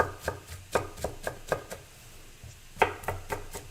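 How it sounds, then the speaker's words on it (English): A knife chops onions on a cutting board in a steady series of sharp, close knocks, a short pause, then another quick run of cuts, with no talking. "So I'm chopping up the onions."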